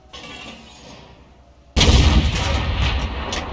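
A tank in World of Tanks fires shells into buildings: a quiet lull, then a sudden loud blast with a heavy booming rumble and crumbling debris that carries on to the end.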